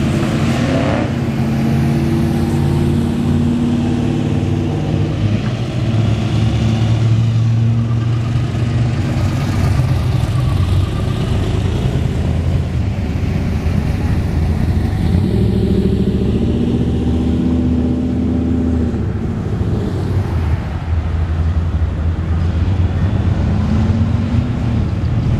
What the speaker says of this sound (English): Nice Chevelle. I think that's probably got to be a 396 in there.